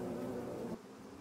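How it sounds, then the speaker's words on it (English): Bees buzzing in a film scene, a dense droning hum that holds steady, then drops quieter and thinner partway through. "A bug? A real bug? Bees?"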